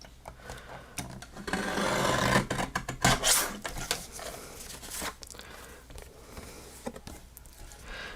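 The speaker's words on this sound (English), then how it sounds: "Let me trim this fold off." Paper card being trimmed along a fold at a crafting table, giving a run of close scraping, rasping cuts and soft rustles that rise in the middle and then settle into lighter handling noise.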